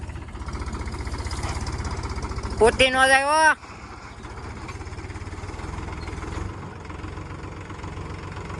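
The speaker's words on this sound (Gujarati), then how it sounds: "અહીંથી હવે ટ્રેક્ટર ચડાવે છે પોતીભાઈ" A tractor with a rotavator chugs up through a muddy farm field, its engine throbbing in a steady low rumble; a loud whining rev surges briefly partway through, and a voice speaks over it.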